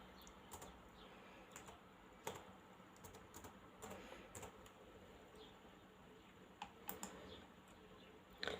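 Fingers type a password on a computer keyboard while installing and setting up trading software, producing sparse, quiet key clicks in short bursts and isolated taps over a low steady hum.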